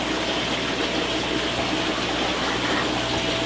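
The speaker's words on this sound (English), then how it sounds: "you can just hear the water running all over the place" Water runs steadily through large fish room aquarium systems that hold over 2000 gallons, with split setups and a planted bed on the return water. It makes a loud, constant gushing rush that never breaks, and nobody talks over it.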